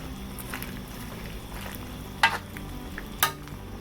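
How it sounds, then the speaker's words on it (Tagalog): Vegetables stirred in a pot over the heat, a faint steady simmering sizzle with two sharp scraping clacks of a spoon against the pot. "Hahaluin lang po natin siya"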